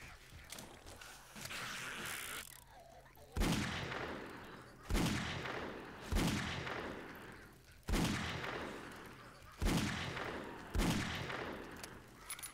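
Magnum revolver fired in 7 Days To Die, six loud booming shots spaced a second or two apart, each trailing off in a long echoing decay.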